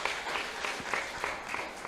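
An audience claps together during a Buddhist dharma talk in Indonesia, a steady, moderately loud patter of many hands lasting the whole short stretch without pausing.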